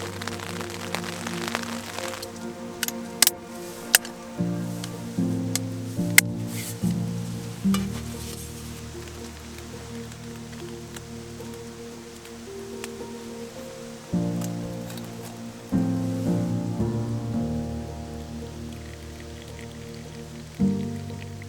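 Continuous rain patters close by on a tent during rainy backpacking on Bugwisan, with occasional sharper drops tapping, over a soft background of sustained musical tones, steady for the whole stretch.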